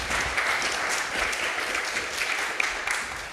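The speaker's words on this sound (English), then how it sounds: "quick round of applause" A crowd applauds steadily for a few seconds at a start-up accelerator celebration evening, a dense, even wash of many hands clapping with no voices over it.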